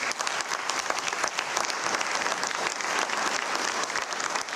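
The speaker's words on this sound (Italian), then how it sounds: "Ancora un applauso." Audience applause at an event presenting the 2026 Venice Art Biennale, a steady, dense clapping from a crowd that fills the whole stretch without voices on top.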